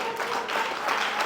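A church congregation claps together in a dense, continuous burst during a worship service, close and fairly loud, with no voices over it.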